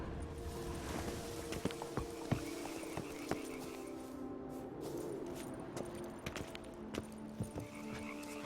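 Roach the horse walks along in The Witcher 3: Blood & Wine, hooves giving an uneven series of distinct clops at a slow pace, set against a quiet outdoor ambience with croaking frogs.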